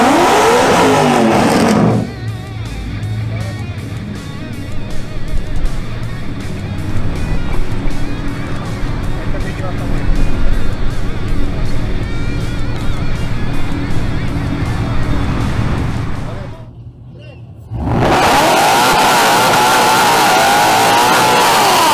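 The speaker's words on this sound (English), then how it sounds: "he will then face another supercharged Ford Mustang GT, piloted by Lucas Casares." Supercharged Ford Mustang GT cars accelerate hard in a drag race, a loud sustained engine roar running for about fifteen seconds with rising revs, briefly cutting out near the end before the noise resumes, with no talking.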